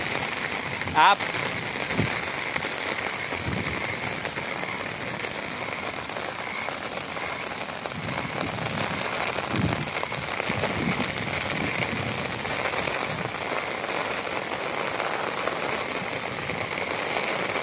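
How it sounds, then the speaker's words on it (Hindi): Heavy rain pours steadily in Swabi as a constant hiss at moderate level throughout, with a voice talking faintly over it. "आप देख सकते हैं ज़बरदस्त बारिश, पानी बहुत तेजी से आ रहा है"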